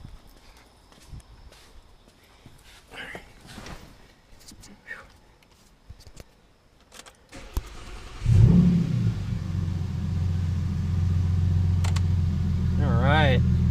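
An Audi A6 engine cranks and catches after a spark plug and coil change, then settles into a steady idle. Quiet clicks and handling noises come before the start, and the running hum stays loud to the end.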